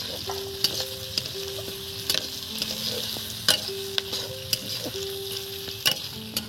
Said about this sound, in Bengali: এবার দেখুন বন্ধুরা, এই যে ক্যাপসিকাম এটাও দিয়ে দিলাম